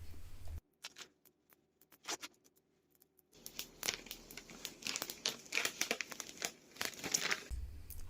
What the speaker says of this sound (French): Et je décolle le papier transfert en tirant en diagonale et à plat.